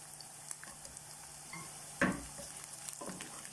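Ginger dropped into a hot pan while cooking adobong kangkong with lemongrass, giving a soft steady sizzle with light stirring scrapes and one sharper clatter midway.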